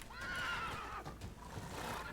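A horse in a video game lets out a loud, drawn-out neigh that wavers in pitch, with game sounds around it.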